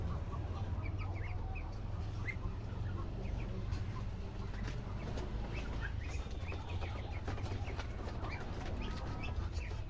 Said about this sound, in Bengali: বাচ্চা হাঁসগুলো আগের চেয়ে বড় হয়েছে একটু